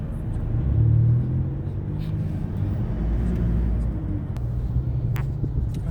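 Heavy road traffic on the CAVITEX expressway after an accident, a steady low rumble of cars and engines with occasional revving, continuous and fairly loud throughout.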